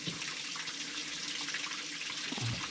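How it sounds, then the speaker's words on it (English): A small stream of water is poured down the intake of a running 1974 W200 engine to knock carbon off the pistons, making a steady, close hissing rush like a running tap, with no voices. "Take an old engine, run just a tiny bit of water down it, and knocks all the carbon off the top of the pistons and everything."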